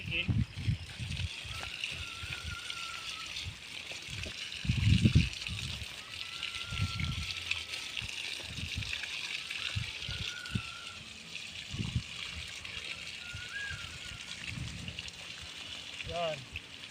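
Water is poured by hand onto vegetable plants, with intermittent sloshing and splashing as a person talks throughout.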